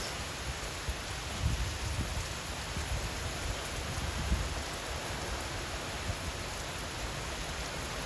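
Heavy rain and high wind from Hurricane Melissa on a mountainside in St. Elizabeth, Jamaica, a steady dense hiss and roar with occasional low gusty thumps, continuous and without voices.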